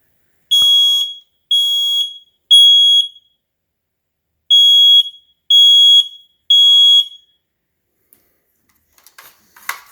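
SM-I100 AC 9120B smoke alarm under test gives six loud, piercing electronic beeps in two groups of three, each about half a second long, then falls nearly silent apart from faint rustling.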